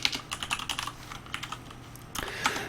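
Fingers type on a computer keyboard during a Java coding session, a quick run of close, crisp key clicks that pauses briefly, then resumes in a short burst ending in a firmer keystroke.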